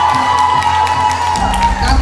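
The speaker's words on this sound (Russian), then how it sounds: "аплодисменты" Audience cheering and applauding for a children's squad at a music contest, a dense, loud crowd roar of claps and whoops that carries steadily throughout, with a deeper surge near the end.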